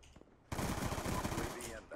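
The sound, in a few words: gunfire from Cap 40 rifle in video game Black Ops 2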